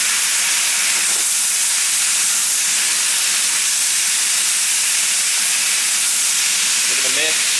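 Beef and vegetables (onions, broccoli, cabbage) stir-frying in a cast iron wok, a steady loud hiss and sizzle throughout with no voices.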